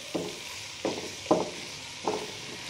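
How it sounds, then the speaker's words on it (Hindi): Garlic and tomato fry for ajwain dal under a steady sizzling hiss, broken by four evenly spaced stirring scrapes in the pan. "अब इसके अंदर मैं 1 अदर टमाटर ऐड कर दूंगी और इसको हम अच्छी तरह से फ्राई करेंगे।"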